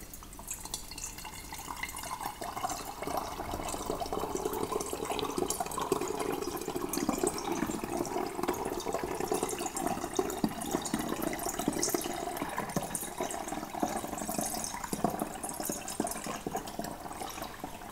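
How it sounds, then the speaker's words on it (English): Sugar kefir liquid poured into a glass jar of water kefir, a steady, continuous liquid trickle and splash heard close up and alone, with no talking. "And then we'll put our sugar kefir liquid in there."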